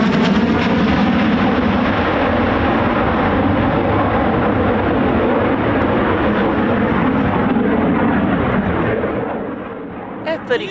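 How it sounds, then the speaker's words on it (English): An F-35 Lightning stealth fighter jet roars loudly overhead, a dense broadband engine rumble that stays strong and then slowly fades away near the end. "F-35's a stealth aircraft"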